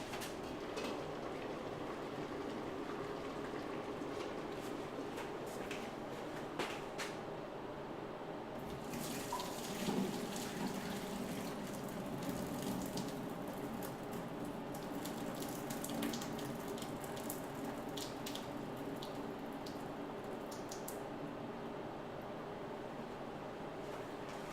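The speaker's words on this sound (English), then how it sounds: "when draining this in the sink, just be careful that you don't get burnt from the steam" Hot water pours and drains into a kitchen sink while cooking char siu, rice and bok choy, a steady close splash and gurgle running throughout with sharper clatters and drips scattered through the middle.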